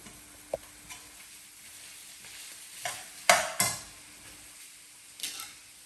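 Capsicum and lemongrass being stirred into a pan of Thai chicken curry, a few scraping stirs and clinks standing out over a faint, steady sizzle, with no talking.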